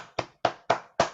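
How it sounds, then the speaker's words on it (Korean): A small audience at a book-writing lecture gives four sharp, evenly spaced claps in about a second, close and fairly loud, with no talk over them. "박수 한번 주시고요."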